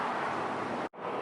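Steady roar of busy street traffic, cars passing continuously at moderate distance, broadband and unbroken apart from a brief cut near the end, with no talking.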